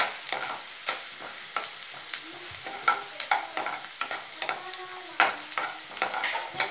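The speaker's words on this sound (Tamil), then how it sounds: "அதுக்கப்புறம் கொஞ்சம் வெங்காயம் வதக்கிட்டு" Onions sautéing in a pan, crackling sizzle under repeated scraping and stirring strokes of a spatula, close and fairly busy throughout, with no voices.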